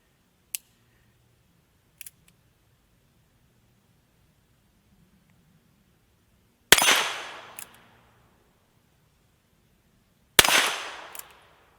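Ruger Wrangler revolver firing Federal 40-grain ammunition at an 8-inch steel target, two loud sharp shots with decaying ring several seconds apart, preceded by faint small clicks.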